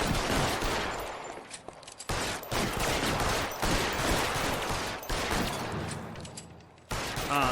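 Sustained gunfire in the crime game L.A. Noire: loud, rapid volleys of shots fill nearly the whole stretch, broken by a few short pauses, with no talking heard over it.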